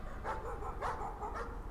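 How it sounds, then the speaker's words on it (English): Dogs barking in the horror game Layers of Fear, three distinct barks spaced about half a second apart, moderately loud and echoing slightly, with no voices over them. "is that dogs? That is dogs."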